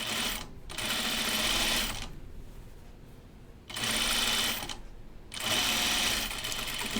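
A sewing machine understitches a seam allowance onto a bias facing on a dress, running in three loud, close bursts of rapid stitching separated by short quieter pauses.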